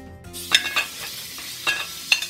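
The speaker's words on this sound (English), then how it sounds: "Hear that sizzle? That's what you want." Half a pound of smoked chicken sausage sizzles in canola oil in a pot, a steady crackling hiss broken by several sharp bursts as the pieces are stirred, close and fairly loud with no talking.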